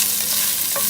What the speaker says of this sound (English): I threw the bacon in. It's sizzling away